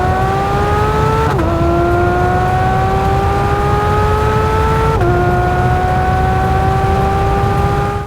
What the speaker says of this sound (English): the 911 GT3 gets a 4-liter naturally aspirated flat-6 engine